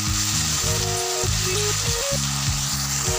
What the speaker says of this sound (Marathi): तर बटाटा आणि गाजर आपण छान तेलात तळून घेणार आहोत।